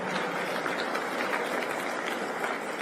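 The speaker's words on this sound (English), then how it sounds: "You deserve a round of applause." Applause at a large political conference, a broad, continuous wash of crowd clapping heard from a distance, even and sustained without breaks.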